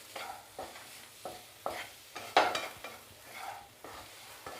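Soya nuggets being sautéed and stirred in a pan for a potato coconut milk curry, with repeated spatula scrapes and strokes over a soft sizzle, close and fairly quiet, no talking.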